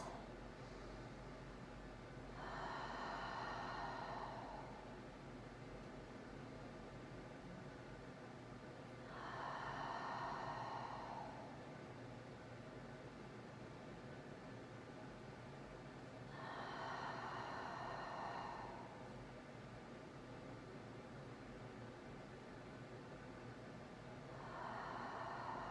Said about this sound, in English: just take a few deep breaths